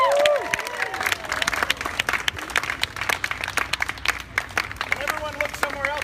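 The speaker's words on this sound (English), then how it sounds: "let's get a clap." A street-performance crowd at Faneuil Hall gives outdoor applause, a dense spread of clapping from many hands with voices and whistles mixed in throughout.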